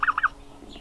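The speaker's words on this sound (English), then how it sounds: "So, because the turkeys are around" Turkeys at a rabbit-powered garden give a quick series of three or four gobbling calls, up close and fairly clear, then a softer trailing note.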